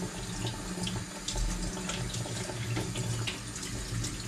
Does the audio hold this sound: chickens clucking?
no